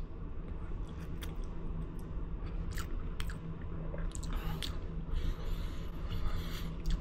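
Up-close chewing of Thai noodles on the first bite, soft wet squishes and small crunches repeating unevenly against quiet room hum, with no talking.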